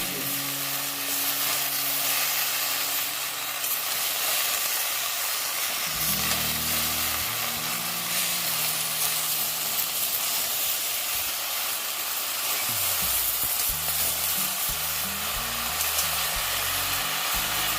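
Kalmi greens cooked with salt, turmeric and green chillies, frying and being stirred in a pan, a steady close hiss and sizzle with low rumbling tones underneath and no talking.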